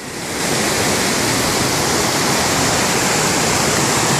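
Roaring, rain-swollen mountain river on a trail crossing, a dense, loud and steady wash of rushing water that swells in within the first half second and then holds without a break, with no voices.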